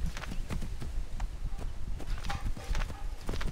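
Horse hooves clip-clop at a quick, steady pace in Assassin's Creed III, close and continuous with game ambience underneath.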